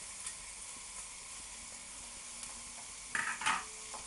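Onion, partly cooked carrots and yellow and red peppers stir-frying in a pan for a children's noodle dish, with a faint, steady sizzle and a brief burst of utensil scraping near the end.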